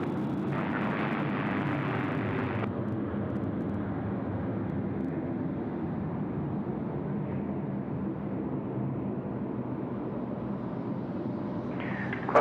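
A Qantas A330 airliner lands at Sydney Airport, heard as a steady, distant jet roar that holds at an even level throughout, with no voices.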